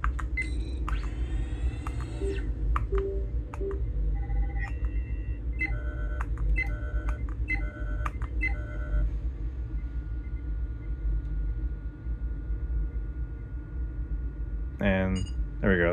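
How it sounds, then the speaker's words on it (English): Electronic beeps sound in short tonal bursts over a constant low rumble of background hum, with a cluster of rapid beeps early and scattered repeats later. "there's the beep sound that we can play with"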